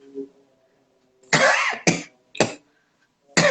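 A person coughs four times in harsh, close bursts separated by short pauses, after a flour-transfer contest, with no talking.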